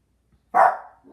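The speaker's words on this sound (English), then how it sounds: "I guess we're having a barking session." A Yorkshire terrier gives a single sharp, loud bark up close, followed by the start of a second yip, in an otherwise quiet room.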